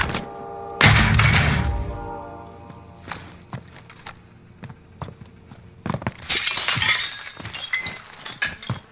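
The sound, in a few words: glass breaking in the video game Warzone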